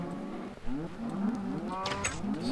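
Several cows moo in the Minecraft video game, low drawn-out synthetic calls that overlap and repeat close by, with no talking.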